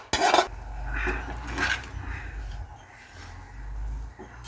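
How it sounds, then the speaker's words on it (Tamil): A spoon scrapes and clinks against a pot while paneer biryani is stirred, with a sharp metallic clatter at the start and softer scraping after, over a low background hum. "கொஞ்சம் நேரம் ஒரு கிண்டு"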